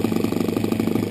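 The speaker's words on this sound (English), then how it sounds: "Hey Doug, your engine runs so good compared to somebody else's." An engine idles steadily and fairly loud, its low throbbing pulses repeating evenly throughout with no voices over it.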